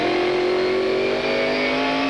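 Loud, steady engine note from a roughly 600-horsepower Trans-Am race car on a street circuit in Phoenix, the tone sustained with slight easing as the driver lifts off the throttle, heard close up from onboard.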